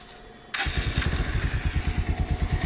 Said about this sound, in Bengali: এরপর আমরা স্টার্ট দিয়ে দেখব বাইকের সাউন্ড কেমন হয় ঠিকমতো চলে কি না